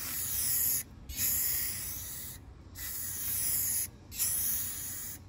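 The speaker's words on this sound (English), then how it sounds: "let's take it outside and clear coat" Clear coat finish sprayed outdoors onto a pine daybed, a hissing spray in several long bursts broken by short pauses, close and fairly loud.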